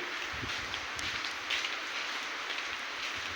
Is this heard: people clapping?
no